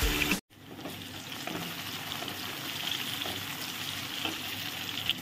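Tomatoes and spices for aloo chole sizzling steadily in a hot pan, a continuous close frying hiss with faint stirring.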